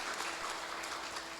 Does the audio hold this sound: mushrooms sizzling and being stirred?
no